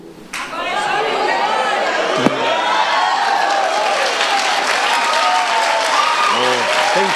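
A church congregation rises to its feet and applauds, a dense sustained wash of clapping with voices mixed in, loud and steady throughout.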